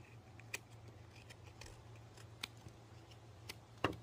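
Scissors snip several times at uneven intervals, short crisp cuts over a low steady hum in a quiet room.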